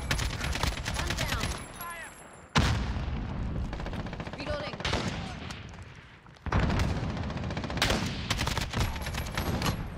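Call of Duty Modern Warfare multiplayer fire, with rapid automatic bursts and single cracks that come in heavy waves, broken by two brief lulls. A voice talks faintly under the shooting.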